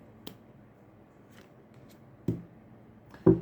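Tarot cards shuffled by hand, a few separate soft riffles and slaps against a quiet room background, with the loudest two near the end and no voices.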